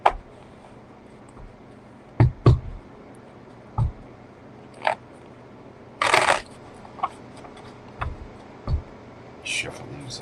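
Tarot cards are shuffled in scattered bursts of soft slaps and riffles, close and fairly quiet, with short pauses between handfuls.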